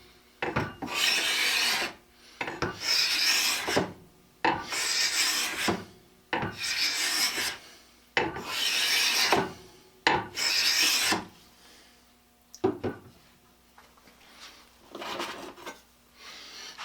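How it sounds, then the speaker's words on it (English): A Stanley scraper plane shaves wood in long rasping strokes, about seven steady back-and-forth passes with short pauses between, close and clear, then a few lighter, shorter scrapes at the end. "With a sharp blade set at the proper angle, a good scraper will eliminate the need for sanding."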